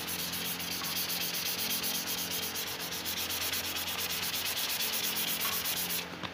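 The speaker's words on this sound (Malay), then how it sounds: "pakai 800 kita boleh start gosok lah" Car clear coat being wet sanded with 800 grit sandpaper, a close, continuous rubbing hiss with a fast, even back-and-forth texture and no speech.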